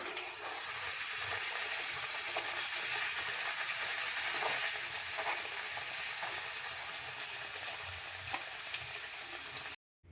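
Ragi puri frying in hot oil makes a steady, close, bright sizzle with constant bubbling crackle that runs unbroken until it cuts off abruptly at the end.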